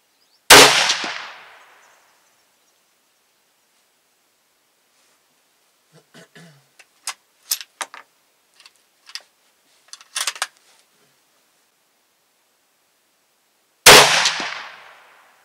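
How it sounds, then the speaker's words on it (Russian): Two loud, sharp shots from an LA 102 rifle roughly thirteen seconds apart while sighting in a scope, each with a short decaying echo, separated by quiet clicks and faint handling noises. "Сейчас сделаем три выстрела, посмотрим."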